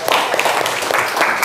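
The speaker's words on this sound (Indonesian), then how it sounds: "Tepuk tangan untuk kita semua." A classroom of students claps together after a game, a dense continuous patter of many hands, loud and close for a brief moment.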